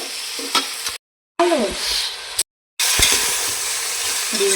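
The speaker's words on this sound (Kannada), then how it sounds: "ಚೆನ್ನಾಗಿ ಎಣ್ಣೆ ಹಿಡ್ಕೊಂಡು ಬೇಯ್ತಾ ಇದೆ" Onion and tomato frying in oil in a pan for tomato bath, a steady close sizzle broken by two short gaps, with stirring scrapes throughout.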